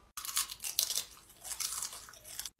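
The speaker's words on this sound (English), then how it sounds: "Can you stop chewing so goddamn loud?" Loud, close crunching of crunchy chips being chewed with an open mouth in a classroom, a steady run of crisp bites and mastication that goes on for about two seconds with no talking.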